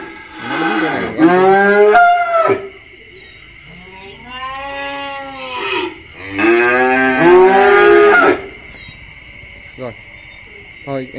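Cattle at a cow farm low repeatedly in long, loud moos with rising and falling tones, several calls in a row and a short pause between, over a steady insect buzz.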